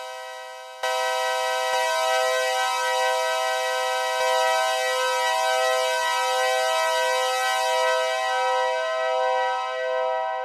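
A sustained synthesizer chord with bright, buzzy harmonics, its tone slowly sweeping and pulsing as a filter moves, held steadily without any voice.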